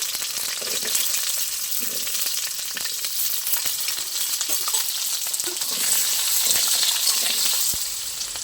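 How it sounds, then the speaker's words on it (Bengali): Cut taro and potato drop into hot oil and fry together, a loud continuous sizzle and crackle with occasional stirring scrapes that swells near the end, with no voices. "তেল গরম হয়ে গেছে আমি দিয়ে দেবো তো গাটি কচু কেটে রেখেছিলাম দিয়ে দেবো গাটি কচু আর আলু একসাথে ভেজে নেব"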